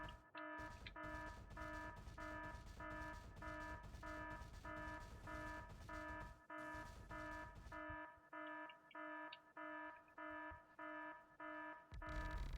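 Alarm in the video game Factorio, a rapid repeating electronic beep in short regular pulses, continuous at first then breaking into distinct spaced beeps, loud with a game background hum.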